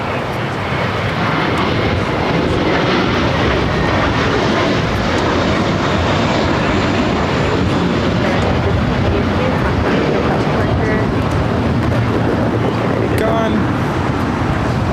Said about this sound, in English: That flight heading to Dallas Fort Worth, Texas, American Airlines flight 1582, I'm sorry, 1582 at the A321